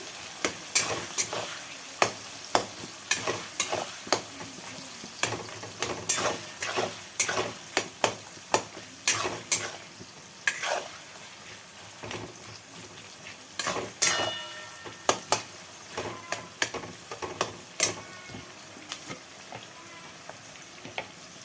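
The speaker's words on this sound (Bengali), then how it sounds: "পেঁয়াজটা লাল লাল করে ভেজে নেব।" Onions sizzle steadily in a hot pan with whole spices, with frequent sharp clacks of a spatula stirring and scraping throughout.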